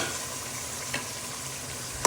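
Pre-boiled mutton pieces go into fried spices for pulao, bringing an even hiss of frying, a soft stir in the middle and a sharp clatter at the end.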